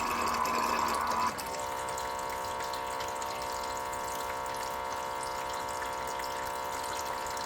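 A small water pump in a Letpot LPH Max 4-in-1 hydroponic system hums steadily at close range after a louder burst of gushing water, its tone thin and continuous as it starts losing suction.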